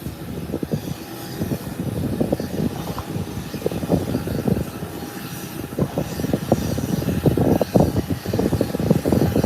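An airliner taxis and swings through a 180-degree turn at Howard Hamilton International Airport, its engines a steady, fairly loud rumbling drone with some fluctuating whine, with no voices.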